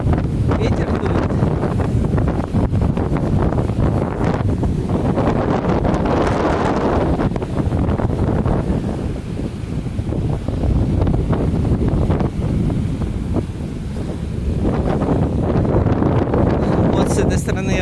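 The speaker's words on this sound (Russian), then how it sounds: "Ветер дует." Strong wind buffets the microphone in gusty rumbling blasts on a Florida beach, with rushing sea noise underneath throughout.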